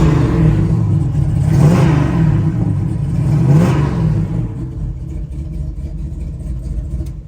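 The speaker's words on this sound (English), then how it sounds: "Get in this car and give it a rev." A 1971 Chevrolet Nova's engine revs up twice in rising surges, loud and close, then settles back to a steady idle rumble with no talking.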